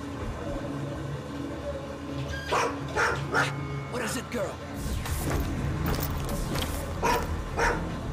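Dog barking in the video game Road 96, several short barks spread through the clip over a steady game background, with talk mixed in.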